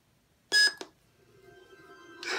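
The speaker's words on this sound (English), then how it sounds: "you hold the power button down until it beeps at you" A lightsaber prop, one of a curved saber pair, gives two short beeps during a sound font change, followed by a faint, steady electronic tone and a louder burst at the end, close and clean with no speech.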